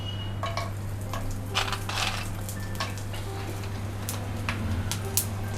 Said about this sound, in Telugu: ఇప్పుడు ఆయిల్ హీట్ అయిన తర్వాత వడియాలను వేసుకుందాం అండి.